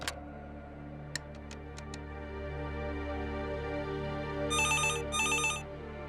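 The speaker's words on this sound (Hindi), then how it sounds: "फोन बज रहा है।" A telephone rings at home: an electronic trilling ringtone in two short bursts over a faint steady hum and a few light ticks, no voices.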